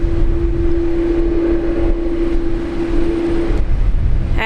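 A Qantas airliner in special livery roars at Brisbane Airport, a loud, steady engine drone with a sustained tonal whine that cuts off near the end, no voices over it.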